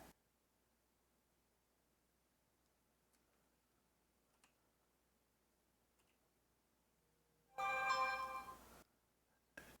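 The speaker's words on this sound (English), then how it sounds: "there goes my phone" A mobile phone rings loudly for about a second near the end, a bright burst of tones after long near-silence, then a brief second blip.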